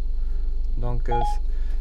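A Ford SYNC 3 infotainment system plays phone dialing tones inside a car: two short bursts of beeping DTMF tones over a steady low hum.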